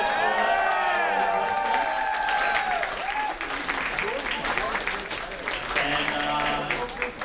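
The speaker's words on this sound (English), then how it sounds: "let's have a round of applause for Davide and Greg." An audience at a Mario + Rabbids Kingdom Battle launch event at Nintendo NY applauds steadily, a sustained wash of clapping with voices and chatter mixed in throughout.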